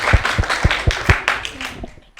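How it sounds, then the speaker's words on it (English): Audience clapping at a school spelling bee, several strong claps early then thinning and fading out over about two seconds, with faint background talk. "Let's give him a round of applause"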